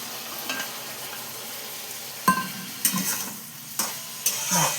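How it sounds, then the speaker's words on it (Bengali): Water goes into a pan of fried masala for a bottle gourd curry, a soft steady sizzle broken by several sharp stirring scrapes and clatters near the end. "এবার এতে আমি অল্প জল দেবো, কারণ লাউয়ের তো জল উঠবে"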